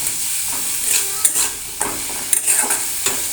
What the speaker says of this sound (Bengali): এবার ঢাকা দিয়ে ভালো করে আলুটাকে ভেজে নেব।